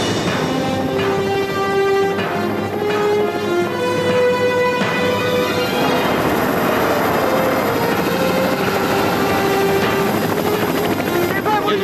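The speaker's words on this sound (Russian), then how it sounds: "Вертолет." A helicopter approaches with a loud, continuous rotor thump and whining turbine drone that builds and fills the scene, with voices faintly under it.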